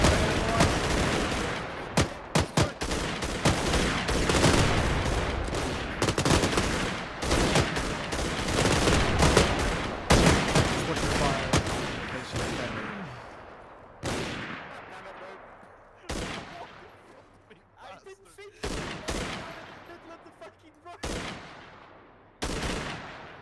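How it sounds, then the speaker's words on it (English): Sustained gunfire in the military game Arma 3, dense overlapping shots and automatic bursts for the first half, then thinning into separate loud reports with echoing tails spaced a few seconds apart. "Keep up sustained fire, 1 round every 4 to 5 seconds"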